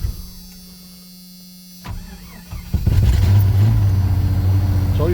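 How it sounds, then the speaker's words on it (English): A Jeep engine cold start: a low hum gives way to a brief cranking whir, then the motor catches and settles into a loud, steady rough idle. "A little cold start here."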